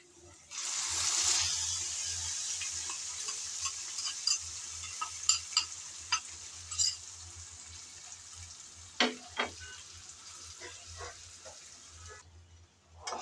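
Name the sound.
ground spice paste added to frying onions, stirred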